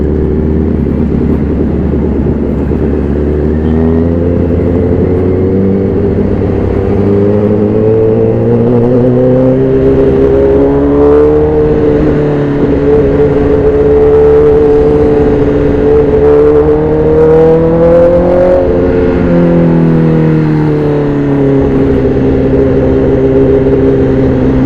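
A 2012 Honda CBR1000RR 20th Anniversary sport motorcycle engine hums steadily while riding, its pitch rising and falling through throttle changes, loud and continuous with wind noise and no talk.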